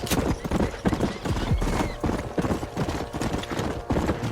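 Horse hooves gallop in Red Dead Redemption, a loud close rhythmic clip-clop pounding steadily throughout with faint creaks of tack.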